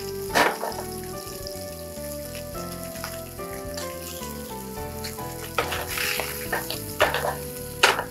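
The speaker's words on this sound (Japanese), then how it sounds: "ブリを焼くときは強火で焼いてください。" Yellowtail fish sears in a pan over high heat with a steady, vigorous sizzle and occasional sharp pops and crackles.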